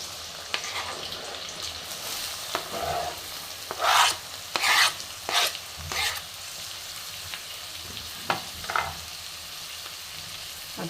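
Chopped onion hits lightly heated oil in a home kitchen pan while making misal pav, giving a steady close sizzle broken by several loud bursts of stirring and scraping, with no talking.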